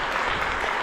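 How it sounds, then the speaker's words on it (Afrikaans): Church congregation applauding during a confirmation service, a dense, steady burst of clapping throughout the short moment. "So kom ons geef hulle lekker aan die klap by julle gesien."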